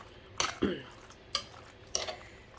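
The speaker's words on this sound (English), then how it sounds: "So we're just going to mix this in here." Spoon scraping and clinking through a ricotta and seasoning mixture in a bowl for baked ziti, a few soft separate strokes with quiet gaps, close and fairly quiet, no talking.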